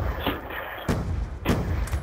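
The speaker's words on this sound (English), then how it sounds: "Many explosions going on." Explosions in the video game Black Ops 2 land as three heavy booming thuds in quick succession, loud and close, with rumbling tails between them.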